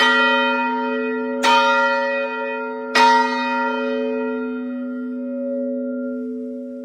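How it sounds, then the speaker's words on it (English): A large clock bell rings loudly, over 120 decibels, with sharp strikes at steady intervals, each leaving a long, shimmering hum that lingers between hits. "Maybe give you one more rat-a-tat-tat off of the bell."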